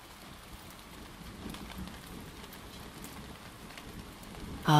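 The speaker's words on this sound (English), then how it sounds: "The storm that you can hear." Steady rain falls through a thunderstorm, with a soft, even patter of drops that continues evenly throughout.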